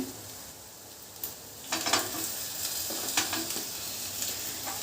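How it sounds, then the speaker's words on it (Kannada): Tomato goes into a pan of frying home-style chicken gravy, and a steady close sizzle swells after a couple of seconds, with brief stirring scrapes on top. "ಅದಾದಮೇಲೆ ಲಾಸ್ಟಲ್ಲಿ ನಾನು ಟೊಮೆಟೊ ಹಾಕ್ತೀನಿ"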